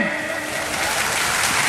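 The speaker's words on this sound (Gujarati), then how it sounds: "આપણે સૌ તાળીઓના ગડગડાટથી વધાવીએ।" Thunderous applause from a large crowd at a Buddhist diksha mahotsav gathering, a loud continuous wash of clapping with no breaks.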